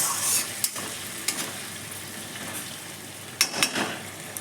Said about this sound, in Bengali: এখন মশলা ভেজে নিচ্ছি। দিয়ে দিলাম অল্প একটু জল,